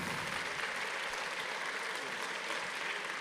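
Audience at a university conference applauding, a steady wash of many hands clapping at moderate distance, fairly soft and even throughout.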